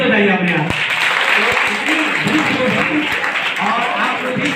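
Audience applause fills a seminar hall, a steady wash of clapping from many hands that carries on for several seconds, with a few sharper individual claps near the start.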